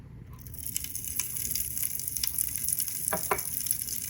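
Pop Rocks candy crackling in plain water, a dense fizzing sizzle of tiny pops running continuously, with a few sharper snaps standing out near the end.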